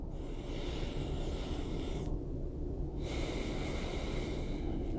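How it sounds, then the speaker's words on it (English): Slow diaphragmatic breathing close to the mic: a long airy inhale, a brief pause, then a long hissing exhale, each breath loud and breathy against steady background noise. "And breathing with my diaphragm."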